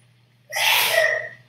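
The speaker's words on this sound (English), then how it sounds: "You sneezing too loud" A single loud, close sneeze bursts out sharply and fades over about a second, with no talk around it.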